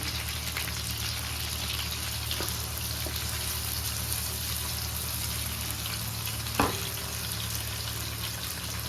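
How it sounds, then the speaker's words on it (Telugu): Green chillies sizzle in a pan of hot oil with a steady, close, crackling hiss that continues evenly throughout, broken by a single brief knock near the end. "ఇవి కూడా వేగాలి. పచ్చిమిర్చి,"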